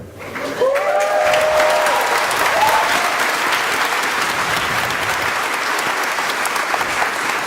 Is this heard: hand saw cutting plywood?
no